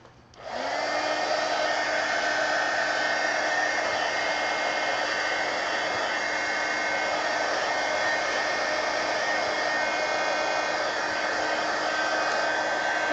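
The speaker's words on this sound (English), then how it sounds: "Let me dry this off real quick" A hair dryer blows steadily to dry a calligraphy scroll, switching on near the start and holding a loud, even whir with a faint tonal whine for the rest of the stretch, with no talking.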